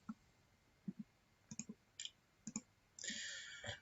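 Sharp computer mouse clicks while working in SPSS statistics software, a string of faint single and double clicks in a quiet room, followed by a brief louder burst of higher-pitched clicking near the end.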